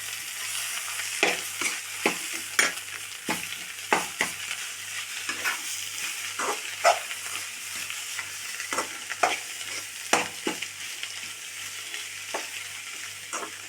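A spoon stirs boiled tapioca into egg curry in a pan, giving a close series of wet scraping and knocking strokes over a soft sizzle, with no one talking.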